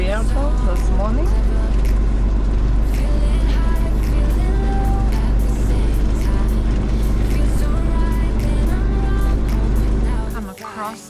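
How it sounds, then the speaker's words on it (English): A safari game-drive vehicle in the Kalahari pans on a morning drive roars loudly and steadily close by for several seconds, its engine dropping away abruptly at the end. "We have an oncoming game vehicle this morning."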